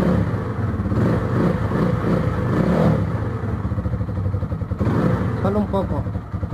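Motorcycle engine starting and running after its carburetor was cleaned of water-contaminated fuel, a loud close rumble that steadies, then a brief rev with rattling near the end.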